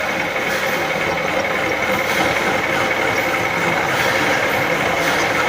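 A conventional lathe runs with a steady mechanical hum and faint rattling, sounding close and continuous throughout, with no voices over it.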